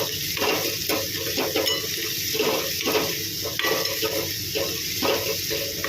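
Chopped onions fry with a little salt in a pan for a mussel curry, hissing in a steady sizzle broken by regular scraping stirs of a spoon.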